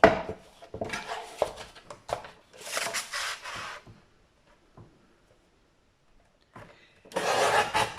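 Paper being cut for the base piece of a small handmade loaded envelope: several crisp, dry bursts of snipping close up, then a long quiet gap before a final longer cut.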